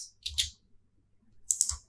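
Computer keys are pressed to enter a shortcut while working on roofs in Revit architectural software: two quick clusters of crisp, close clicks separated by a short pause.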